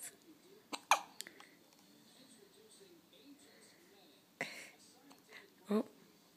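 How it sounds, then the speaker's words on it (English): A person hiccups a few times with short, sharp bursts spread irregularly across the stretch, the clearest near the start and near the end, over a quiet room with faint background noise. "They have the hiccups."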